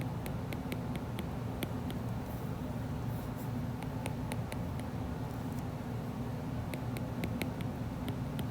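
Pen or marker strokes on a board while answers to two-step equations are written out, faint scattered taps and scratches over a steady low room hum, no talking.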